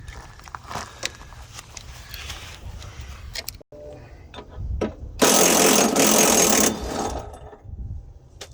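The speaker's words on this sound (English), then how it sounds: "And I am just loosening up the body mounts here." Body mount bolts being loosened underneath a Chevy Express van during a 1-inch body lift, with ratcheting and clunking tool sounds and a loud sustained burst of air-tool noise midway, close to the microphone.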